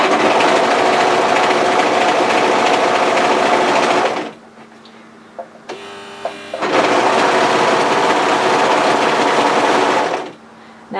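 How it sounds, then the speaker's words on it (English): A sewing machine stitches along the edge of winter-weight t-shirt fabric in two long, steady whirring runs, with a short quiet pause and small clicks between them. "Now I'm sewing directly on the edge of the fabric."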